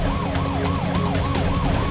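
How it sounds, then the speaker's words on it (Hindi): A police car siren wails, rising and falling steadily over a rumbling traffic background, several cycles in quick succession, moderately loud and fairly near. "पुलिस की गाड़ी।"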